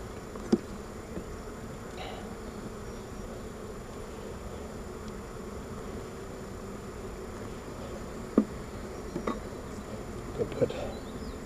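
Honey bees buzz steadily around an open hive during an inspection, a continuous close drone with a few faint knocks and clicks from handling frames.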